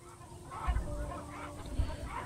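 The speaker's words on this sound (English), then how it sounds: "Look, we got chickens." Chickens cluck in the Arkham Horror video game, a swampy outdoor area, with a few short honking fowl calls over steady background game ambience and music.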